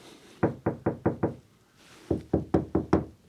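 Two quick bursts of hollow knocking on a rotten wooden deck, five raps then a pause and five more, evenly spaced and close.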